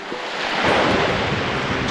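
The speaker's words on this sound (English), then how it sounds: "It's been windy all night, like full on windy." Steady roaring wind buffets the microphone over the rush of choppy water, a broad continuous noise with no voices.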